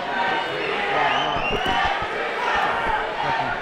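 A boxing arena crowd chants for fighter Adrian Gutierrez, a steady wash of massed voices and rhythmic calls filling the hall, with a commentator's voice riding over it.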